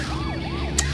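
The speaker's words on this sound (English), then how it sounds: "Sorry, it's my phone's alarm." A mobile phone alarm going off with a repeating rising-and-falling electronic tone, steady and fairly close, with no talking.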